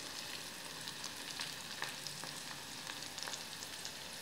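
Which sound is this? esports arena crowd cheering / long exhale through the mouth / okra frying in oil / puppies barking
okra frying in oil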